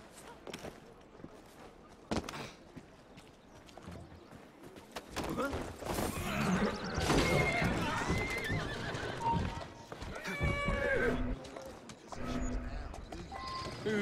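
Horse in the Assassin's Creed Syndicate video game neighs and whinnies amid steady clip-clopping hooves, with game effects and a voice speaking over parts of it.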